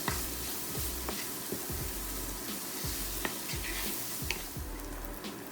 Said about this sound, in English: So give this a quick stir again, and we'll keep it going.